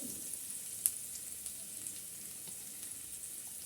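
Onion softening in oil in a pan while catla fish with bean seeds is being cooked gives a faint, steady hiss of frying, with a few small pops and no talking.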